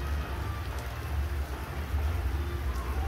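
Steady rain falling on arrival in Delhi, a dense even patter with low rumbling, heard at moderate level throughout with no talk.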